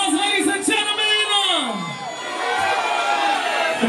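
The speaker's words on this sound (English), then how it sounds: "That round of applause, ladies and gentlemen." At a Halloween party, a crowd cheers and whoops loudly with shouts and yells layered over a continuous roar that holds steady throughout.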